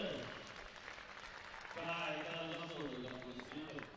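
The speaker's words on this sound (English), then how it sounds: "We can hear some cheers from the crowd" A crowd cheers and applauds at a bouldering World Cup semi-final in Moscow, a brief swell of distant cheering mixed in with commentary.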